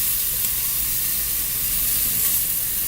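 A porterhouse steak sears over direct grill heat during an outdoor reverse sear, giving a loud, continuous broadband sizzle and hiss that holds steady with no voices.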